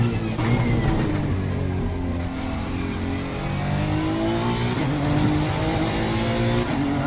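A Honda NSX EVO GT3 race car laps Kyalami Grand Prix circuit in Assetto Corsa Competizione, its engine droning loudly and rising through gears with repeated upshifts and revs, steady and close throughout.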